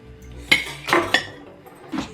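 Bowls and utensils clink and knock against each other in a kitchen while egg yolks are being handled for baking. A few sharp clatters stand out over a quiet background.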